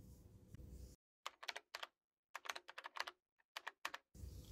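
Quick bursts of key presses on a computer keyboard while commands are entered in Windows, close and clear, in short irregular runs with brief pauses between them.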